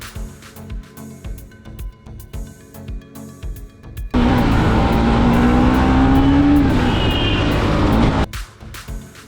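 A dirt bike engine revs loud and close for about four seconds while being ridden, its pitch climbing steadily, set between quieter stretches of other sound.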